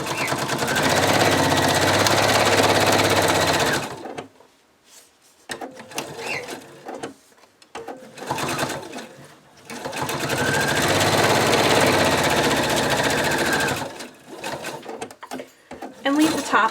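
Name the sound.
sewing machine stitching cockatiel plushie tail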